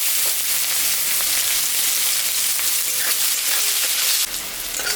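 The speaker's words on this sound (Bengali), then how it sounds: "পেঁয়াজটা দিয়ে দিলাম।" Sliced onion hits hot oil left from frying fish, already seasoned with dried red chilli and cumin, giving a loud, steady, close sizzle that runs unbroken and eases slightly near the end.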